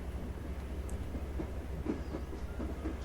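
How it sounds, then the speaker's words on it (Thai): Moving train in the video game Zompiercer, a steady low rumbling roll with faint rhythmic clatter, continuous and fairly close throughout. "แล้วผมจะหยุดรถไฟยังไงอะสมมติถ้าเจอเมืองอะ"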